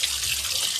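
Water runs from an outdoor garden tap after the hose came loose, a steady broadband hiss with a low gurgle, close and continuous for the whole moment with no talking.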